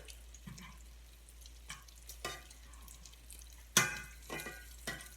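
Salmon with crispy skin frying in a pan as it is flipped, quiet sizzling broken by a few scraping, clattering handling sounds and one sharp louder clack near the end.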